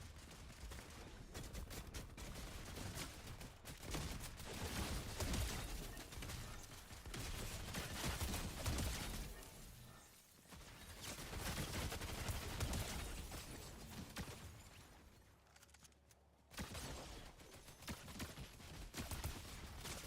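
Video game gunfire crackles through a dense, continuous barrage of loud shots and bursts, with brief lulls near the middle and toward the end before firing resumes.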